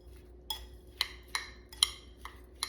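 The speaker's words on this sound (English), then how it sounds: "We're gonna stir it together" Faint, crisp clinks of a utensil tapping a bowl as pico de gallo is stirred, about six light strikes spaced roughly half a second apart against a quiet background.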